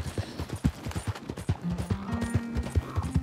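Close, even clip-clop of horse hooves in Red Dead Redemption 2, trotting steadily, joined partway through by a faint sustained low tone.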